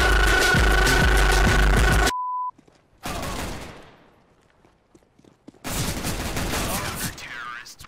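Gunfire in Counter-Strike: Global Offensive, loud dense bursts of shots in three separate clusters broken by short quiet gaps and a brief electronic beep, with players' voices heard in between.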